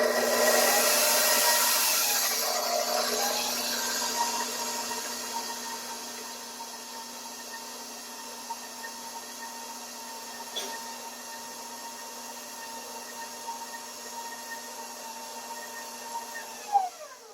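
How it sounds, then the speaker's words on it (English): Stand mixer running at low speed, kneading pizza dough as flour is worked in, a steady whirring motor hum with a louder start that settles into an even drone, close and alone with no talking. "We're going to put it up to mix. When we put it up to mix, it has to mix slowly at first."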